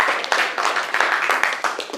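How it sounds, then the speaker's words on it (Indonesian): Students in a classroom applaud a classmate named Endra with a brief burst of dense, close clapping. "Tepuk tangan untuk Endra."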